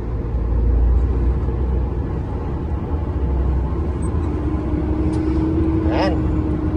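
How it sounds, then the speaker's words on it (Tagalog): A heavy, fully loaded truck engine drones and labours in high gear as the clutch is released, a low, constant rumble close by, with a brief higher tone near the end. "binibitawan ko yung clutch, medyo nanggagalaiti yung makina"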